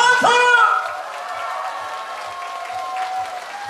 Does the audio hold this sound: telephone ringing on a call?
no